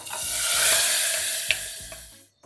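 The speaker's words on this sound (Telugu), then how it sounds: "తాలింపుని పప్పులో వేసేస్తున్నా" Hot tempering of dried chillies and curry leaves poured into cucumber dal, a loud sizzling hiss that slowly fades, with a few stirring clinks, close and without talk.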